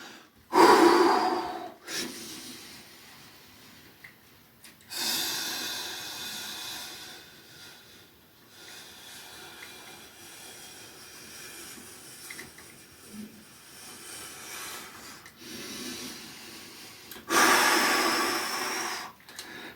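Heavy, forceful breaths and snorting exhalations come in loud bursts during a bullworker strength workout, with quieter steady breathing between the efforts, close to the listener.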